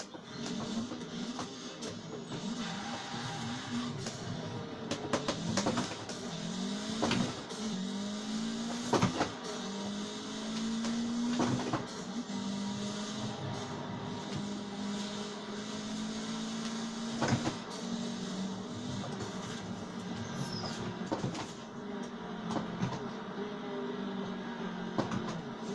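A human voice imitates a 2-litre turbocharged Mitsubishi Evo 8 MR 4G63 engine, producing sustained droning engine tones with rising and falling rev sweeps and sharp bursts, fairly quiet and continuous.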